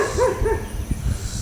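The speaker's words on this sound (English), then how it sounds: "There's probably a dog." A dog barks a couple of times at a distance in an outdoor night setting, short muffled yips over a low rumbling background with no talking.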